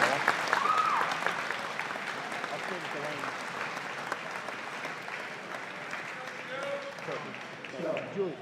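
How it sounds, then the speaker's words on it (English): Sustained applause from a crowd at a high school boys' varsity basketball game fills the space, steady and moderately loud, with a few faint voices mixed in. "that deserves a round of applause for these kids"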